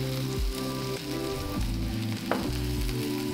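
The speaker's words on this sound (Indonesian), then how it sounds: "Masukin bawang merahnya sekarang, kita akan gorengnya ini di api sedang kecil." Shallots fry in oil in a wok over medium-low heat, a soft continuous sizzle and crackle heard up close at a fairly low level, with no talking.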